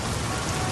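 Steady, dense rain pours down onto a surface, a loud even wash of countless drops that fills the moment with no voices or other sounds.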